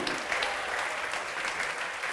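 A church congregation applauds in a steady, dense wash of clapping that holds at an even level throughout, with no speech over it.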